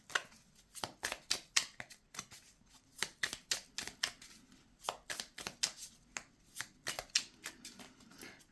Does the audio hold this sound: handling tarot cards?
yes